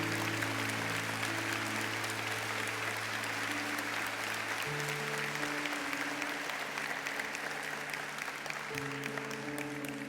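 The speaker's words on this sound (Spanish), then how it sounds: "Yo quiero que los reconozcamos con un aplauso" Church congregation applauding warmly for their pastors, a continuous wash of clapping heard throughout over sustained low organ or keyboard chords.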